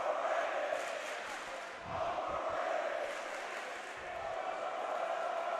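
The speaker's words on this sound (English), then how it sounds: "The Dematha crowd saying overrated." Basketball crowd at a high school game between Dematha and Gonzaga, a dense roar of many voices with swelling chant-like surges, steady and loud throughout.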